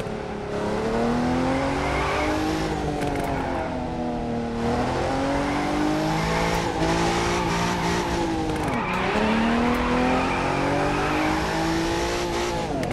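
A Nissan 370Z Nismo drifting in The Crew 2, its engine revving loudly and rising and falling in pitch with continuous tire squeal and skidding over the whole run.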